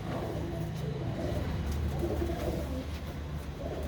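Pet pigeons, kabooter kept by a fancier, coo in low repeated murmuring calls close by, a soft rolling cooing that continues steadily without voices.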